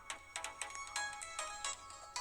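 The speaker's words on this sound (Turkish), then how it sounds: "Aa telefon çalıyor. Telefon çalıyor." A telephone rings in a video game as a bright electronic ringtone of rapid repeating chirps in short bursts, loud and close, with no talking.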